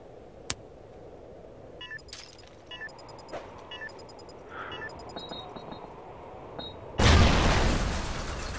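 One heavy, close grenade blast in a search-and-destroy round of a video game, a sudden broad roar that fades slowly, preceded by scattered faint pops and electronic beeps.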